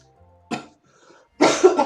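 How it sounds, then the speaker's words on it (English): Two coughs close to a webcam microphone: a short sharp one, then a longer, rougher cough a moment later, with quiet in between. "that was from just coughing into the webcam"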